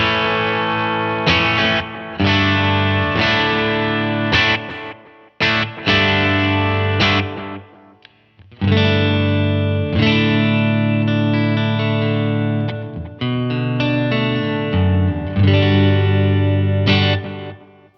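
Electric guitar with a lightly driven tone strums chords and riffs in phrases separated by brief pauses, with short reverb and delay tails.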